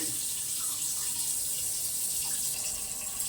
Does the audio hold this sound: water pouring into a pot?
yes